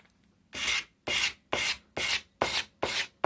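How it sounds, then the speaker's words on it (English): Sandpaper wrapped around a block of wood is rubbed over a rifle's rubber recoil pad in seven even, close, scratchy strokes with short gaps between them. "Now get your sandpaper, get a piece of wood, wrap it around,"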